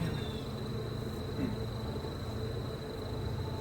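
A steady, dense drone of many honeybees buzzing close by as they are shaken into a hive, continuous throughout with a faint low hum underneath.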